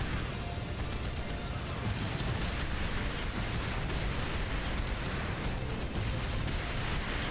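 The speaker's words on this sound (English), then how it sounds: "Is that guy really shooting at tanks?" Dense, continuous barrage of gunfire and explosions hitting tanks during a battle in Trails of Cold Steel, loud and sustained throughout with crackling bursts layered over a rumbling low end.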